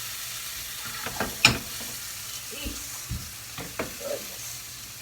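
Food frying in a pan, a low continuous sizzle with a few scattered clinks and stirring knocks, close but fairly quiet, with no talking.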